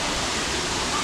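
Water pouring at Tinago Falls in Iligan City, a steady, dense rushing roar with no breaks over a brief moment.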